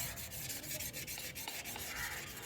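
A carbon steel kitchen chopper is rubbed by hand to finish its surface, giving a close, continuous scraping with quick, regular strokes and no voices.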